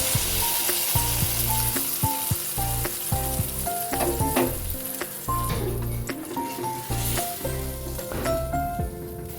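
Sizzling spice paste of chillies and tomato, cooked for a paneer and soybean dish, gets water from the spice bowl and crackles loudly and continuously, with repeated clinks and scrapes of stirring throughout.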